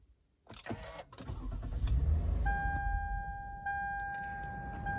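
Toyota Highlander engine cranking after a battery replacement, a loud starter churn that catches into a steady idle with a high electronic whine on top, close by and with no talk.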